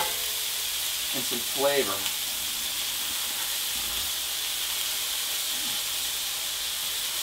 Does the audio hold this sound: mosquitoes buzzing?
no